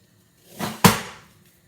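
A hot aluminum can, heated on a stove and plunged into a bowl of cold water, crushes with a short sharp bang, preceded by a brief hiss and fading quickly into quiet.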